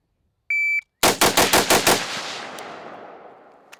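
A short electronic beep, then a Sig MCX rifle fires a rapid string of about six loud, close shots at a shooting range, each sharp crack echoing, with the last trailing off into a fading ring.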